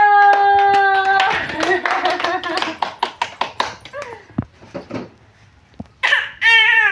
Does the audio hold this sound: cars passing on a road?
no